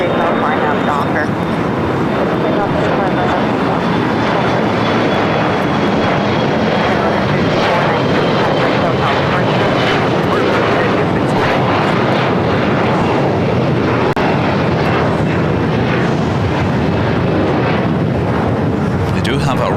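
A fixed-wing airliner takes off from runway 25 right at LAX, a steady loud broadband engine roar lasting throughout with faint talk beneath.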